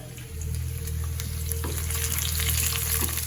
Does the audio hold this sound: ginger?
yes